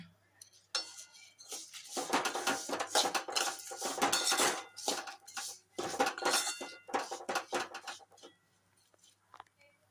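Cardamom and bay leaf stirred and fried in a pot: bursts of metal utensil scraping and clinking against the pot, in uneven strokes with short pauses between, close and fairly loud, no voices.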